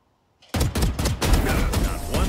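Rapid bursts of gunfire in the tactical shooter Valorant, starting abruptly after a brief silence with about a dozen sharp, loud shots in quick succession, close-up and alone.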